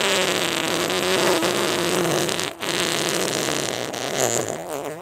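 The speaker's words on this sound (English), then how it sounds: "Everyone listen to me fart." Fart from a Twitch streamer, a long, loud, buzzing, wavering blast that runs steadily for about five seconds with a brief dip midway.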